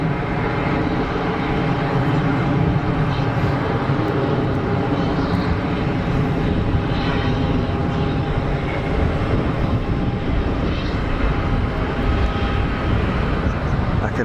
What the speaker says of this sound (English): So there is an APU running down there somewhere, I think, on the easyJet 320.